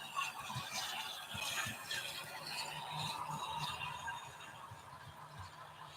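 A model Class 52 Western locomotive, pulling the Cornish Riviera Limited, runs with a faint, continuous mechanical whir and gear rattle on its track, quiet and steady throughout.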